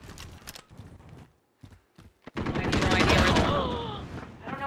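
Gunfire in a shooting video game, a few scattered shots among player talk, then a loud continuous volley of rapid fire dominating the second half.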